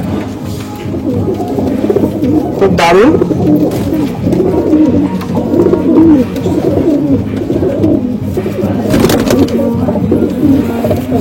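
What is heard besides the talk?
Malwai pigeons cooing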